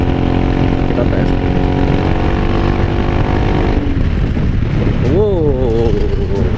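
A Yamaha XMAX 250 scooter fitted with a locally made Smooth Muffler aftermarket exhaust, loud and close, idles with a steady drone, then revs up in a couple of rising and falling bursts.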